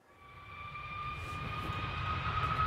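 A steady airplane engine drone with a sustained whine, like a jet overhead, grows gradually louder over a couple of seconds with no voices present.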